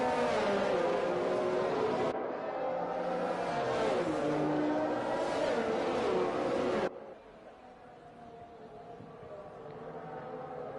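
A race car in a racing video game lapping the final section of a circuit, its engine droning and shifting in pitch steadily throughout, loud and close, then dropping abruptly to a quieter, thinner hum partway through.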